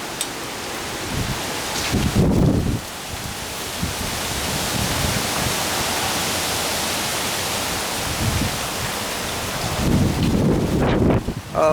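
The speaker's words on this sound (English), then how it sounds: "Oh, it's windy and rainy." Strong tropical storm winds from Tropical Storm Nicholas in Houston, Texas, roaring as a broad, steady gust across the whole stretch, buffeting the microphone with rain mixed in, louder bursts near the start and end.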